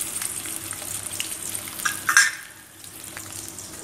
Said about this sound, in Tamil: எண்ணெய் சூடாக இருக்கிறதுனால நம்ம இப்போது அதுலேயே வெங்காயத்தை போட்டுக்கலாம்.